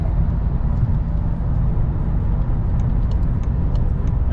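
A 2018 BMW 530e xDrive iPerformance plug-in hybrid speeds up on a highway, heard from the cabin as a loud, steady broadband road and wind roar with faint tire hum, no talk.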